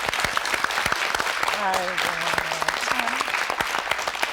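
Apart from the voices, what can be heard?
studio audience applause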